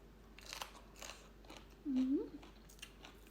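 Someone chewing bean som tam salad close to the mic, with soft crunchy bites spread across the clip and a brief low hum or voiced sound partway through.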